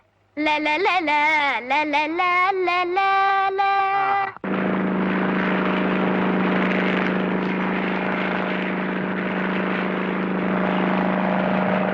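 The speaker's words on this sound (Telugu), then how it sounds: "మీరెప్పుడైనా ఈ విమానం ఎక్కినారా?" After a few seconds of speech, a loud, steady droning of an airplane engine takes over and holds evenly to the end.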